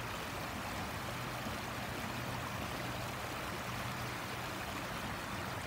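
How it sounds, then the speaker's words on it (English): A river on the outskirts of a town on a frosty winter morning flows with a faint, continuous rushing hiss, steady throughout with no voices. "I don't know what river this is. It's flowing round the outskirts of Wing Canton."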